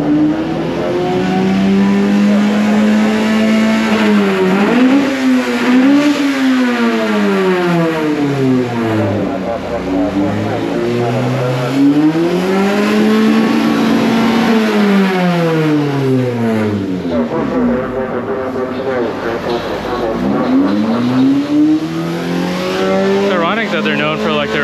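Honda Fit race car engines rev and whine with rising and falling pitch as the cars accelerate and shift at a one-make race in Kansai, loud and continuous, with voices occasionally talking over them.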